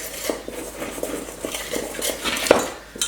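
Pumpkin, egg and sugar stirred together in a bowl, with repeated clinks and scrapes of a utensil against the dish in an irregular rhythm, fairly close and moderately loud.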